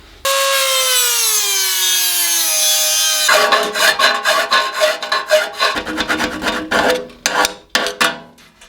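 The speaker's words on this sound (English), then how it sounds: "It's going to grind a little bit more out of here because the cable's quite close to that" A mini lathe's motor whines down in pitch, then a grinding tool bites into the metal near its cable in loud, uneven rasping bursts with short pauses between passes.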